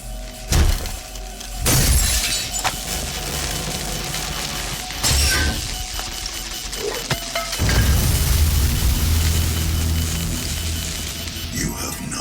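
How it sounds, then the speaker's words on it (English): Glass vial of the Argent filter smashing in DOOM (2016): several sharp shattering cracks and breaking bursts amid mechanical clanks and grinding, loud and close over a humming background. "After smashing and removing the vial from the last Argent filter"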